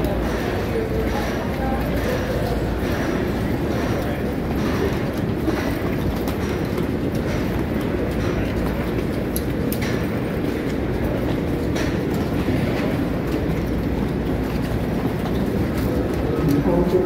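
A passenger train running on its rails between Boston and New York rumbles steadily, with continuous low wheel and track noise and faint clicking throughout, heard from inside the carriage.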